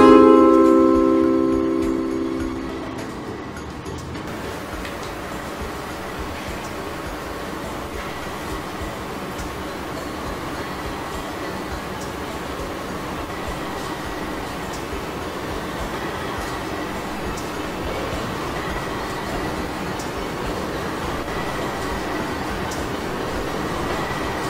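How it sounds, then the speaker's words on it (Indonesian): A train arrives at Cirebon station in the Trainz Simulator game, a steady rolling rumble of rail cars that runs throughout after a brief tonal chime fades at the start, with no talk. "Dari arah timur akan segera masuk kereta api Fajar Utama Jogja dari stasiun Yogyakarta dengan tujuan air stasiun Jakarta Pasar Senen."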